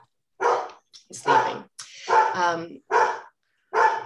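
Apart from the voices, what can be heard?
dog barking at the mailman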